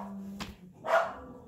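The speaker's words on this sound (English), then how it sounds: "okay, those are my dogs." Dogs playing outdoors bark twice, two short separate yaps about half a second apart, at moderate distance, with a low hum underneath and no speech.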